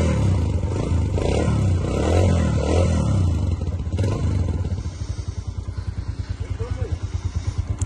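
A motorcycle with a large silencer is started with its self-start button, and the engine settles into a steady, close, rhythmic idle thump after some rumbling and clatter.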